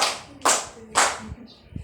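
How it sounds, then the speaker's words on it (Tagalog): A classroom of students claps in unison three times, each a sharp burst spaced roughly half a second apart, with faint voices afterward. "Bigyan naman natin siya ng 3 palakpak"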